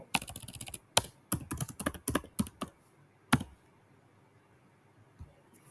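A computer keyboard clatters under quick typing of a ChatGPT prompt, a fast cluster of close, crisp key clicks that thins to a few isolated taps before falling quiet.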